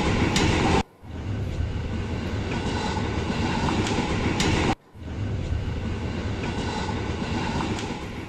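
A KRL commuter train passes on the rails in Depok, West Java, a loud continuous rumble and rattle of wagons with two brief drops, close by and without talk.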